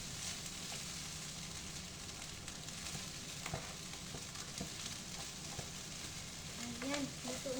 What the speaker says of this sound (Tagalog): This is my fried rice for today.